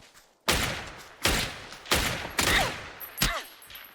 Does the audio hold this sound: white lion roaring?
no